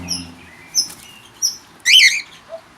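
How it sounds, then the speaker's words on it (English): A dove calls near a red-rump parrot nest box, giving a few short, clear chirping calls spaced apart in a quiet setting, with one louder burst in the middle. "Sounds like Dove is in Charlie's spot"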